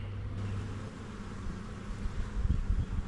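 Honey bees buzzing around an open nucleus colony, a faint low drone under steady background noise with a few louder rumbles toward the end.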